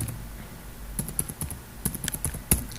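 A mobile number is typed on a computer keyboard while an online account form is filled in: a quiet pause, then a quick, uneven run of close, crisp key clicks.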